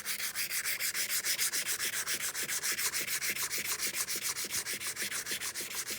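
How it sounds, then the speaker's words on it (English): Fine-grit sandpaper rubs by hand across a workpiece in quick, regular back-and-forth strokes, a close and steady rhythmic scratching with no talk. "we are going to be sanding both front and back."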